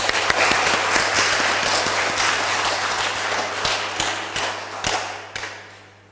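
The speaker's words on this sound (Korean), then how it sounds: "감사의 박수하겠습니다" A church congregation applauds steadily and loudly, a dense wash of clapping that thins into a few scattered final claps near the end.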